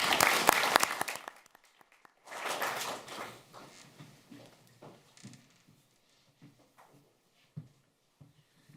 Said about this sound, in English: A warm applause, please.